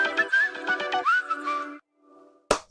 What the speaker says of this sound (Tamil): இந்த விசில் சவுண்டு தான் ஹைலைட்டா இருக்கு.